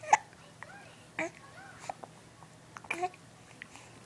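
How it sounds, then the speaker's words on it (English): A baby gives a few small, sharp hiccups spaced a second or so apart, mixed with soft babbling and infant vocal sounds in a quiet room. "no, not the hiccups."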